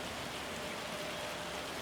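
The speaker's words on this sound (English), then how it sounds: "And it is raining." Steady rain hisses evenly in a fishing video game, soft and continuous with no gaps and no voices.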